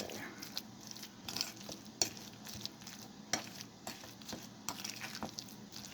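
A spoon stirs a thick cassava and ube halaya mixture for suman, giving soft, repeated scraping and sticky patting sounds at close range, with a few sharper taps against the bowl.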